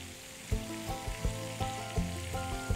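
Prawns shallow-fry in a pan with a steady, gentle sizzle, punctuated by a few soft clinks and taps at regular intervals, close and fairly quiet.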